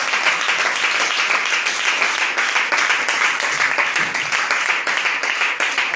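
A church congregation at a worship service in Bouaflé applauds and acclaims Jesus, with dense, continuous clapping from many hands filling the room alongside cheering voices.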